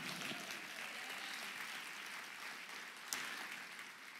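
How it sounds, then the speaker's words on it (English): A church audience at a ladies' night event gives sustained applause, a dense wash of clapping that continues steadily throughout. "Y'all can clap."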